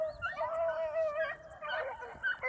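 A young hunting dog yips and whines in high, wavering bursts while running swamp rabbits outdoors, a run of several cries close and moderately loud, with brief pauses.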